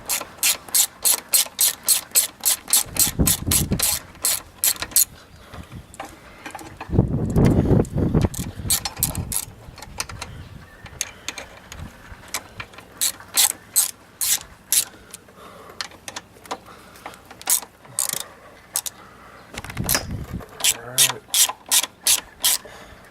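A ratchet wrench on an extension backs out 10 mm bolts on a Ford Mustang, with rapid bursts of close, crisp clicking repeated many times, broken by pauses, metallic clanks and a few rustling handling sounds.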